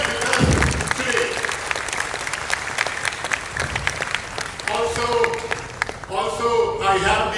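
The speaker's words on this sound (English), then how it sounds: "Let's give a big round of applause." Audience at an AI launch event in Indonesia applauding to welcome NVIDIA CEO Jensen Huang, loud continuous clapping with scattered cheers, while a presenter's voice speaks over it in places.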